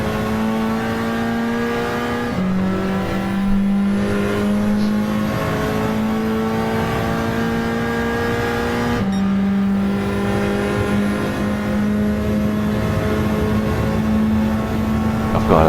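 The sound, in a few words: race car engines from a racing video game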